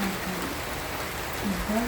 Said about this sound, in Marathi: तर अचानक पाऊस आला पहा